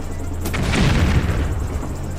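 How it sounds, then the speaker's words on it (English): A cannon firing a thermal blast in a plush-toy game battle: a single deep, booming explosion that swells and rumbles for about two seconds, loud and close. "Aiming cannons. Firing thermal blast in 3,"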